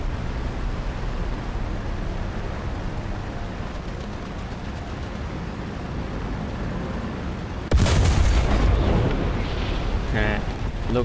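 A tank's ammunition storage exploding in the War Thunder combat game, a sudden loud blast that cuts through steady rumbling battle noise partway through and is followed by crackling debris and lingering roar.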